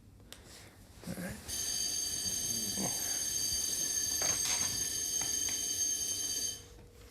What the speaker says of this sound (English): Fire alarm testing maintenance.